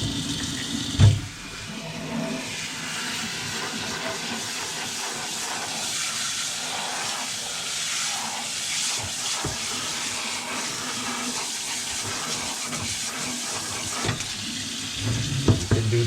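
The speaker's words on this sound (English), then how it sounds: "Now we're going to rinse, cool water, the cool weather crop." Cool running water rinsing broccoli sprouts in a stainless steel sprouter, a steady hissing stream with faint splashes and clinks near the start and end.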